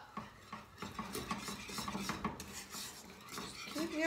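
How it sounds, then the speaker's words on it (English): A wire whisk stirs lemon meringue pie filling in a cooking pot with a steady scraping, clinking rhythm against the metal, close and fairly soft, with no talking. "Keep whisking."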